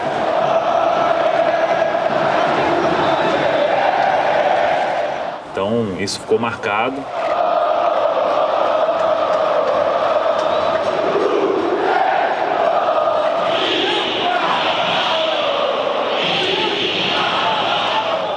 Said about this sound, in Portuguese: a torcida do Cruzeiro cantando e abafando o som do Mineirão